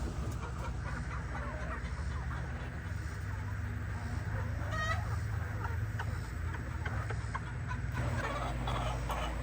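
Hens cluck intermittently against a steady low mechanical hum, with a voice murmuring faintly in the background.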